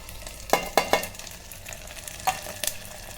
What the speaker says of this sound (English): Now add the egg burji to it.